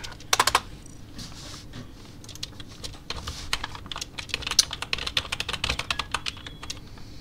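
Fast typing on a computer keyboard while writing in the Among Us game chat: dense, close key clatter in uneven bursts, with a few sharper clicks near the start and no talk.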